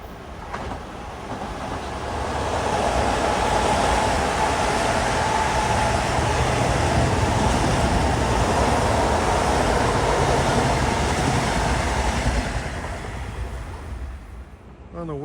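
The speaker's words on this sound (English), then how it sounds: "here comes train 1911 from Ronkonkoma to Penn Station" A Long Island Rail Road commuter train bound from Ronkonkoma to Penn Station arrives at Queens Village, its roar building over a few seconds, holding steady, then easing off as it passes.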